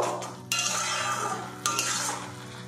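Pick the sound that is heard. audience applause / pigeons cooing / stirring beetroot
stirring beetroot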